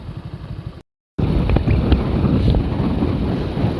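Wind at Karmal dam roars loud and steady across an open microphone, a heavy low rumble that cuts out for a moment and then returns stronger and gusting.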